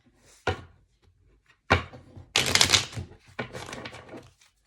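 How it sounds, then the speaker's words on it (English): Tarot cards are shuffled in several bursts of riffling and slapping, close and crisp, with short pauses between the bursts and no speech. "I was gonna shuffle again."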